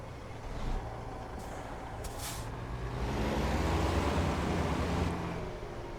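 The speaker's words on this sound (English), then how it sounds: "Why don't we get this truck started" A heavy truck engine in American Truck Simulator, a Peterbilt or similar rig starting up, gives a steady low diesel rumble that swells midway, with a brief air-brake hiss near the start and no talk over it.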